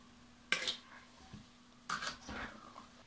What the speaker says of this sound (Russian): Изредка крышечку открываем и перемешиваем